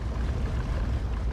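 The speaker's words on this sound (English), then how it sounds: "I love that engine sound." Clipper ship engine in the Star Citizen video game, a continuous low rumbling drone with airy noise, steady and fairly loud with no speech.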